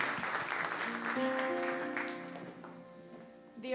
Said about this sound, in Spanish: Dale un fuerte aplauso al Rey que vive siempre.